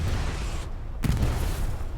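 Heavy artillery explosions boom in the Hell Let Loose video game, with a deep rumbling impact near the middle and continuous low battlefield thunder around it.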